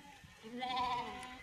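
Lambs bleat in a single wavering cry, fairly close, as they seek their mothers at a spring reunion of lambs and ewes in Muş.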